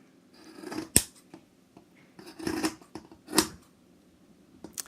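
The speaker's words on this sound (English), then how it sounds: "you need to cut the excess fabric off" Scissors snip away excess fabric from a sewn Boomerang bag, several crisp close cuts in an uneven rhythm, separated by quiet pauses with faint handling noise.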